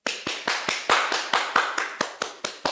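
An audience claps for a speaker being introduced, with steady, even hand claps close up and no voices over them.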